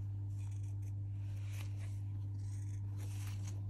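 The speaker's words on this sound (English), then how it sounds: "I'm also going to snip into the curves" Scissors make a few faint, soft snips as they cut into the curved seam allowance of a sewn fabric seam for a twirly party dress, sitting under a steady low electrical hum.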